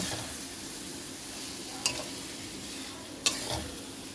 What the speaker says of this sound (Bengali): ভালোভাবে মশলার সঙ্গে আমি মিশিয়ে নিচ্ছি